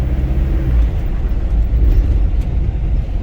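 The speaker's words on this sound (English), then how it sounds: "The sound of the firing of the engine tells you that the engine is really refined" A steady low engine rumble idles without a break, a smooth, constant drone with no voices, from a 2011 Ford Endeavour 3.0 diesel automatic 4x4.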